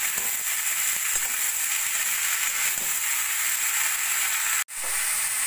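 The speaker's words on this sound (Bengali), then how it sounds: "সব কিছু দিয়ে এবার ভালো করে একটু ভাজা ভাজা করে নেব।" Diced potato, beetroot, carrot and peas fry in oil in a pan for a vegetable curry, giving a steady, close, even sizzling hiss with no talk, briefly cut by a short break near the end.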